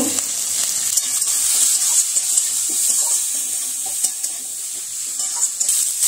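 Pasta with capsicum, tomato and chili stirred in a pan, a steady sizzling hiss with soft, irregular scrapes and taps of the spoon throughout.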